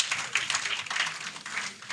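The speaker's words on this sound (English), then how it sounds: "A huge round of applause." Audience applause at a launch event in Ghana: a dense, steady wash of many hands clapping together, moderately loud and sustained throughout, with no voices heard above it.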